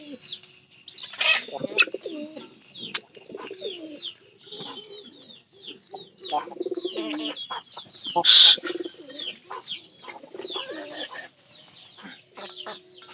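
Egg-laying hens clucking and murmuring close by, with a mix of soft clucks, coos and brief calls, one louder squawk in the middle, and faint voices of people talking.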